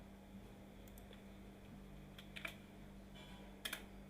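Keys on a computer keyboard being typed while entering an Excel formula: a few sparse, faint clicks with small bursts near the middle and end, over a steady low hum.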